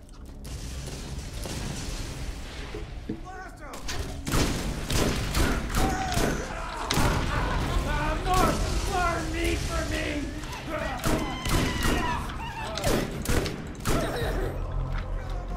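Explosions and rapid gunfire from the video game Borderlands thump and crackle in irregular bursts, under near-continuous talk.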